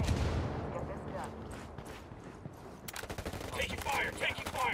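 Rapid bursts of gunfire in the Trainyard map of the game Ghost War, a dense crackle at first that fades, then returns as sharp, close volleys in the last two seconds, with voices speaking over the shooting.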